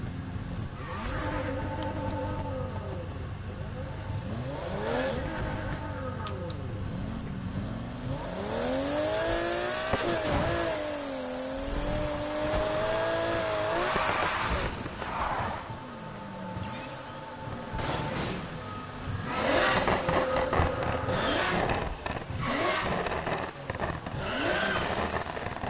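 A Porsche 911 in the racing game Need for Speed Heat revs and accelerates hard, its engine note sweeping up and down through gear changes, with tire squeals and skids breaking in throughout; loud and sustained, no talk.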